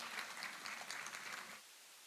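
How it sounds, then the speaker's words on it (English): An audience at a national conference on media and journalism claps in a faint, distant wash of applause that dies away after about a second and a half. "A big round of applause, my friends, once again for Shri Siddharth Kagji."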